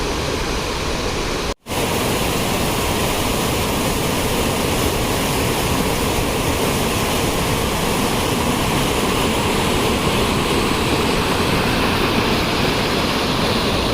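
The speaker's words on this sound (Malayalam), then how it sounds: "ഇതാണ് സാക്ഷാൽ തൂവാനം വെള്ളച്ചാട്ടം." Thoovanam waterfall in Chinnar forest roars as a loud, constant, close rush of falling water, broken only by one brief dropout near the start.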